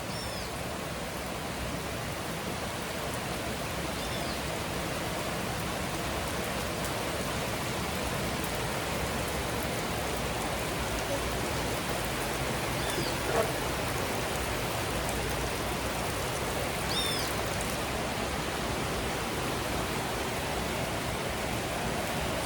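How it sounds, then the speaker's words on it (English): Steady rain falls without a break, an even hiss of drops on surfaces with a few faint distant chirps, no voices, constant in level throughout. "here's a little bit of the rain without us speaking"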